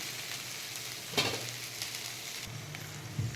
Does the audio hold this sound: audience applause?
no